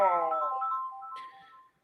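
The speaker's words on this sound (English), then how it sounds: "And that's my phone call telling me I need to step away for a minute." A phone rings with an electronic ringtone, a single sustained melodic tone that glides and fades over about two seconds, close and moderately loud with no talk over it.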